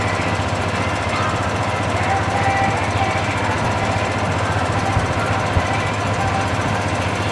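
A golf cart cruises along Grand Avenue among rows of red tractors at the 2017 Red Power tractor show. Its small engine gives a steady, close buzzing drone with a low hum that holds unbroken throughout, with no talking.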